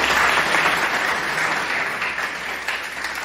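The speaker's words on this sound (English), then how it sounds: "I would like you to all to clap for the first year students of the both batches." Audience of MBA students clapping for first-year students at a group debate competition, dense sustained applause from a crowd filling the whole stretch and tapering slightly toward the end.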